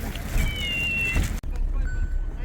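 A squeezed toy cat gives a short electronic meow, a thin wavering tone, then a second fainter chirp follows over steady background noise.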